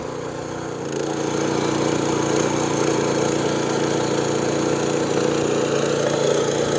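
A 7.5 HP mini power tiller runs in second gear, its engine chugging in a steady, loud, close drone that picks up slightly after the first second and holds evenly throughout.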